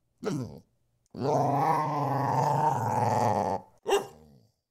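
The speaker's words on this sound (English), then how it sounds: "So I took and recorded my dog" A dog growls up close: a short snarl, then a long rumbling growl, ending with another brief snarling burst.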